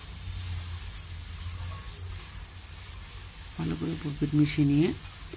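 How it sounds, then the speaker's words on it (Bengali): Vegetables and mourola fish fry in a pan with salt and turmeric, a soft continuous sizzle, and a voice talks over it in the last couple of seconds. "ভালো করে মিশিয়ে নিয়ে"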